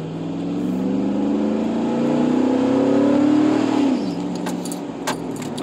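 A vehicle fitted with a Carven R muffler revs up to about 4,000 RPM, its engine tone rising steadily for several seconds before dropping back to idle, heard from inside the cab with light jingling.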